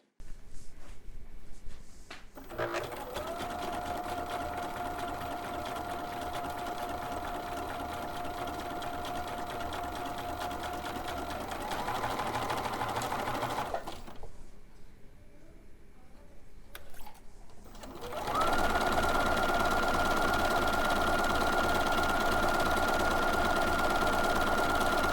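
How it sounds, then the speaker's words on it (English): A sewing machine stitches a quarter-inch seam joining a white strip to a pre-cut layer cake quilt block, running in a steady, close hum for about eleven seconds, pausing briefly, then starting again slightly louder. "then sew your 1/4 inch"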